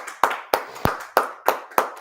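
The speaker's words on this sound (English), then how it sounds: "Clap it up." A class claps hands together in unison, seven sharp, evenly spaced claps in a steady rhythm, loud and close, with silence between each.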